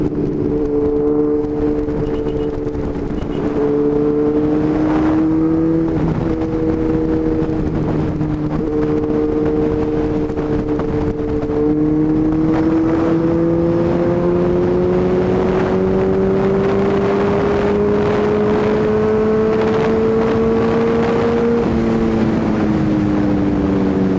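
A Suzuki B-King motorcycle, orange metallic, accelerates steadily with a loud, continuous engine drone that climbs in pitch, dips briefly at a few points and then keeps pulling through the gears, with wind rush throughout.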